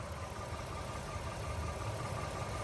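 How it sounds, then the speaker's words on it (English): A Lexus ES350 engine idles steadily and smoothly, a continuous close-range hum, low and even with no talking. "Take a listen to this engine."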